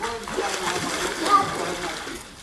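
Water splashing in a backyard pool on a sunny day, a brief close burst of splatter and sloshing, with people talking over it.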